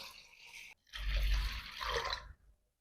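Water poured from a container onto washed rice and lentils for idli batter soaking, a short close splashing pour of about a second and a half after a brief pause, then quiet.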